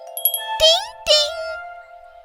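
A cartoon wind chime rings with a clear, sustained bell tone, struck twice by bright tinkling hits that ring on and fade.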